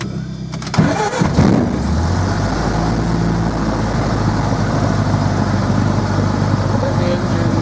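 Light aircraft piston engine cranking briefly, then catching and settling into a loud, steady idle rumble heard close up.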